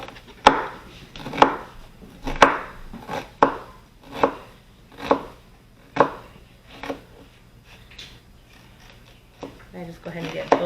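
A knife dices halved onions on a cutting board for veggie burgers, about a dozen crisp, evenly spaced chops close up, with short pauses between them.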